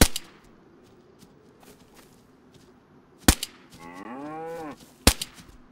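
Cows mooing in the survival video game DayZ: one loud, drawn-out in-game moo rises and falls for about a second, set between sharp gunshot cracks and quiet background noise.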